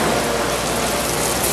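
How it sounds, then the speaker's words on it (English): White sea bass fillets sear in a hot sauté pan with olive oil, a loud, steady, dense sizzle throughout. "Put them into my saute pan."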